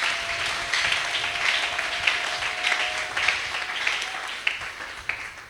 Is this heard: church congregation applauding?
yes